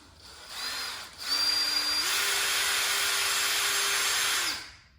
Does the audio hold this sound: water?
no